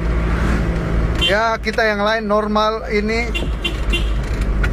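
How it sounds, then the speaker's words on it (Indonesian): Cars passing on a roadside in Sumba, a steady engine and tyre rumble running throughout, with someone talking close to the microphone over the traffic. "mobil-mobil ada yang lewat"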